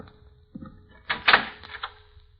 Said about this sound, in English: Open the door, Vince.